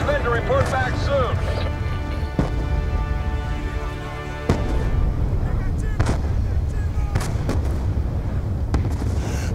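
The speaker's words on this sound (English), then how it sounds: "The mortars have stopped!" Mortar and artillery fire in the Call of Duty Black Ops II campaign, with heavy booms and deep rumbling impacts landing at irregular intervals under loud voices and battlefield noise.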